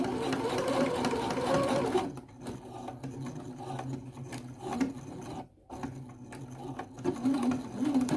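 Domestic sewing machine stitching across the end of a centered zipper on a skirt panel, a steady close motor whir for two seconds, then quieter intermittent bursts of stitching with short pauses.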